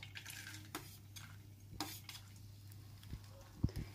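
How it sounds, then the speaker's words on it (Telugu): Dry fruits frying in two spoons of ghee and being stirred: faint, intermittent spoon clinks and scrapes against the pan over a soft, low sizzle, with a steady low hum underneath. "ఇప్పుడు కొంచెం 2 స్పూన్లు నెయ్యి వేసుకొని ఈ డ్రై ఫ్రూట్స్ని అన్నిటినీ ఫ్రై చేసుకున్నాను."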